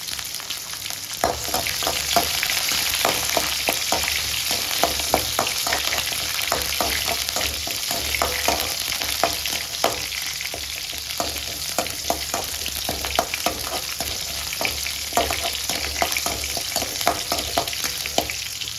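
Onions and dried red chilies sautéing in oil for beetroot poriyal, a continuous close sizzle with regular stirring scrapes throughout, no voices.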